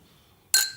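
Champagne glasses meet in a New Year toast, a single bright clink with a short ringing decay after a near-silent lead-in.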